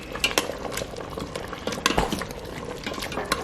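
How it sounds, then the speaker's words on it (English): A spoon clinks and scrapes against an Instant Pot while stirring a thick, dark oxtail sauce, with irregular close metallic taps and soft liquid swishing. "Give that a stir."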